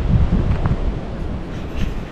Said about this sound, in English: Pretty cold and windy out today.